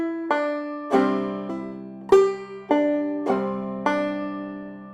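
Banjo phrases in bum-ditty (clawhammer) style with a pull-off to the open first string, a string of plucked notes and brushed strums that ring out one after another, close and clear with no voices.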